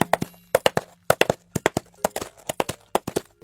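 Hollow clip-clop knocks in a steady trotting rhythm, paired beats repeating for several seconds, close and crisp: coconut shells knocked together imitating horse hooves.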